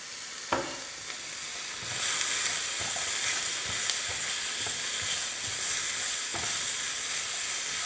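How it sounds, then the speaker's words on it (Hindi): Vegetables stir-frying in a pan: a steady, close sizzle and hiss with occasional scraping and stirring knocks, no voices. "बहुत जल्दी टाइम में स्टर फ्राई तैयार हो जाता है।"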